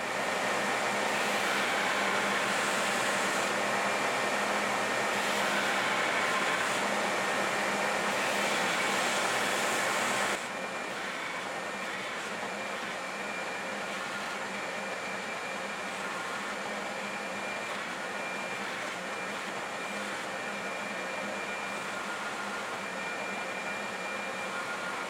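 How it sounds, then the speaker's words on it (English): A grinder shapes a forged steel hunting knife blade with a steady, dense, hissing roar that runs unbroken throughout, dropping to a slightly lower, duller tone partway through. "So now it's off to the grinder to start shaping the blade"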